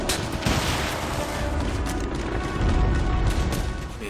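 Manned gun emplacements fire in Devil's Third, a dense, continuous rattle of gunfire and crashing impacts over a low rumble, loud and close throughout.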